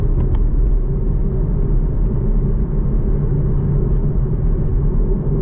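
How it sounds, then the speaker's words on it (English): A Chevrolet Camaro LT1 with a 455-horsepower engine rumbles steadily while driving, a loud deep low drone heard from inside the car with no talk. "Let's go for a ride with a Camaro"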